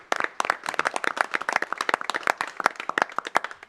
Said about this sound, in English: I think you just deserve a rousing round of applause here from all of us